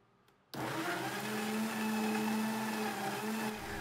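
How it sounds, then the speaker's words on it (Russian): A RAWMID blender on its vegetable setting chops tomatoes and bell peppers in its jug, kicking on abruptly after a quiet moment and whirring with a loud steady motor drone before easing at the end. "Ставлю на режим овощи и измельчаю."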